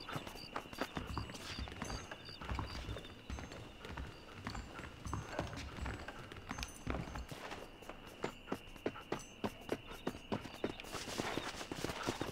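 Horse hooves clip-clop steadily at a walk through a town in Red Dead Redemption on PC, a quiet rhythmic patter of hoof strikes over low ambient game sound.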